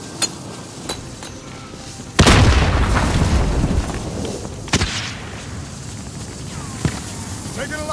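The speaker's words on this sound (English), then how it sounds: "Throw grenade!" Grenade blast in the video game Call of Duty: Modern Warfare, a loud sudden boom midway that rolls off into rumble, with scattered gunfire pops around it.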